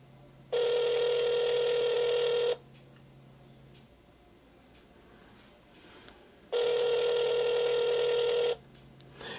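A telephone ring plays through a Bluetooth smart watch during a call, two long, loud electronic ring bursts separated by a few seconds of quiet.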